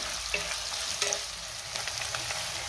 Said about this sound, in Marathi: कांदा आपल्याला चांगला लाल रंग येईपर्यंत परतून घ्यायचा आहे।